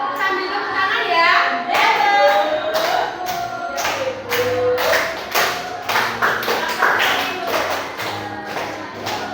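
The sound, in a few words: children clapping hands along to a song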